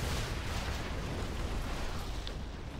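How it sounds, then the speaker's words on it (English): Carpet bombing in Command & Conquer Generals Zero Hour, as massed explosions pound a front line, a dense continuous roar of overlapping blasts that holds at steady loudness. "Carpet bombing trying to clear out the front line."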